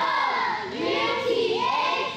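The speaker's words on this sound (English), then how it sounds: "cheering together as one and rooting each other on" Young Pop Warner cheerleaders in Webster shouting and cheering together in unison, a bright chorus of children's voices rising and falling in a chant, with hand claps mixed in.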